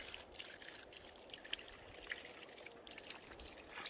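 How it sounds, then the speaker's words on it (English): A creek on the Arizona Trail trickles and burbles in a soft, continuous wash, fairly quiet and even with a few tiny splashes, and no voices are heard. "And the water's flowing over in the creek as well."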